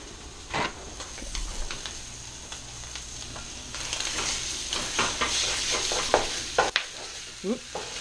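Sausage meat frying in a pan for lasagna, a steady sizzle with scattered scrapes and clacks of stirring, some sharper pops and knocks toward the end.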